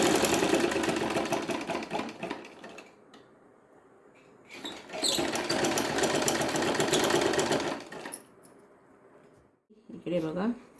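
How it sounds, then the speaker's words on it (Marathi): A sewing machine stitches a size 36 blouse in long runs of steady mechanical whirring, pausing briefly around the middle and near the end while someone talks. "बघा, शिलाई मारून घेते."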